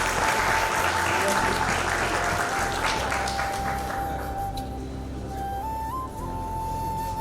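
Applause from an audience at an in-person tech conference talk, a dense clapping wash that thins out toward the end, with a steady tone and background hum underneath.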